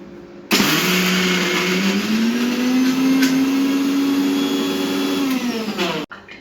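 An electric kitchen mixer grinds soaked mixed lentils into a coarse batter for vada, a loud, steady whir that starts abruptly, holds at a rising pitch for about five seconds, then cuts off.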